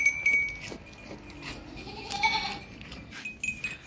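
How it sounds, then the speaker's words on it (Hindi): A large goat for Qurbani sacrifice bleats a few times at a livestock market, mid-distance calls over background farm noise and faint clinks, with no speech. "बकरा देखें माशाल्लाह बहुत ज़बरदस्त बकरा है, कुर्बानी वाला बकरा है"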